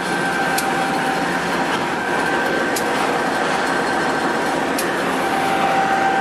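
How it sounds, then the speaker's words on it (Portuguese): A train stands waiting in the Itapeti rail yard for a crossing or clearance, giving a steady, moderately loud rumble with faint sustained tones and a few brief sharp clicks, with no voices. "O trem provavelmente aguarda cruzamento com outro trem aí, ou aguarda a liberação aí à frente"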